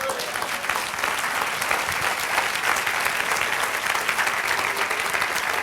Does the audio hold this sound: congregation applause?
yes